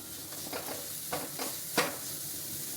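Curry leaves with chilli powder frying in hot oil, a steady close sizzle broken by several sharp stirring scrapes at uneven intervals, fairly quiet and with no voices.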